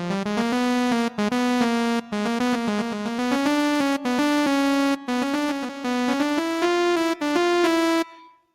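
A synthesized melody, a sustained bright tone stepping through a slow line of held notes, loud and alone, with brief gaps between phrases before it cuts off.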